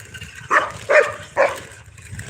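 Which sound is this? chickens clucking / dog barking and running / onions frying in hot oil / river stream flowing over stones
dog barking and running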